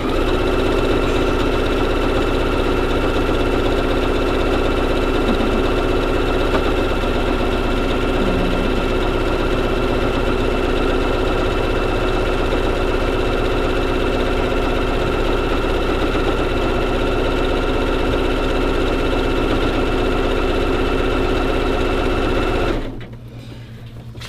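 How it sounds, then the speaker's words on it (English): A sewing machine runs fast and steady through zigzag stitching on mini quilts being turned into pillows, a dense continuous mechanical whir held close and loud for over twenty seconds before it cuts off near the end. "also really satisfying to listen to this machine zigzag because it's really fast"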